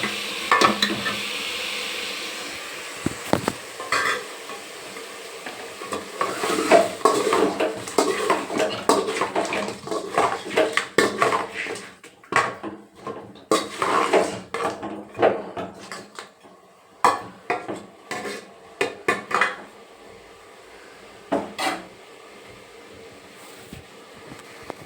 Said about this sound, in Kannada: ಅರಿಶಿನ ಹಾಕಿದ್ಮೇಲೆ ಸ್ವಲ್ಪ ತಿರುಗಿಕೊಳ್ಳೋಣ.